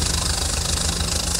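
Steady, droning idle of a New Holland 3630 tractor engine in Farming Simulator 22, a continuous knocking hum with broad hiss, loud and unbroken, no voices.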